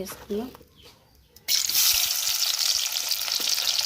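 Onions and green chilies frying for a village-style beef curry, a loud steady sizzle that bursts in partway through and holds, after a brief quieter stretch with faint talk and stirring at the start.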